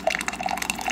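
A Ninja single-brew coffee maker brews a K-cup, giving off a soft, steady trickle and drip of water with small gurgles, close by and fairly quiet throughout.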